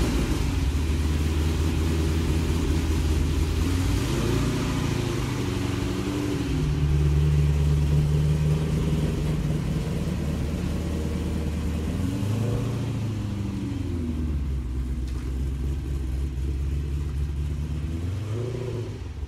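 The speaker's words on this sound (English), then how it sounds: "Let's move this car out of the way." Car engine idling and revving as the car is moved out of a garage, a loud, close mid-pitched rumble with repeated rises and falls in engine speed throughout.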